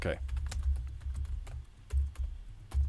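Quick, uneven clatter of typing on a computer keyboard, close and soft, with irregular bursts of keystrokes over a low background hum.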